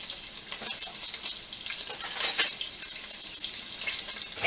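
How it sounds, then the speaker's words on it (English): Sausage sizzles and crackles steadily in a hot pan while cooking for a keto soul food dinner, a continuous close frying hiss with small pops and no talking. "my sausage is already cooking already."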